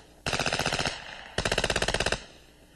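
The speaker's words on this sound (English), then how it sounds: "a low recoil impulse, the use of highly resistant materials account for the P90 delivering its firepower" An FN P90 submachine gun fires two loud, sharp full-auto bursts of about a dozen rounds each, separated by a short pause, every shot crisp and evenly spaced, with the report ringing briefly after each burst and no talking.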